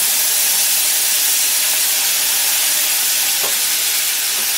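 Ginger paste sizzles loudly and steadily in hot oil already tempered with dried red chillies, bay leaves and whole cumin, for a Bengali bottle gourd curry with fish head; a continuous close hiss with no talk.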